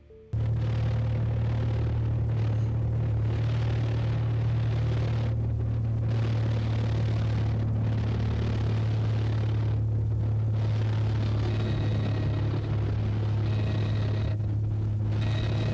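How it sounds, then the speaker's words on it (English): Small plane in its final moments before a crash, a loud steady low engine drone with harmonic hum running the whole time, broad rumbling noise with dips and surges as the aircraft stalls. "the plane can be heard stalling as he tries to pull the throttle up too much"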